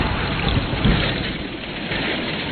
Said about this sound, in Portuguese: quando se ouviu um grande trovão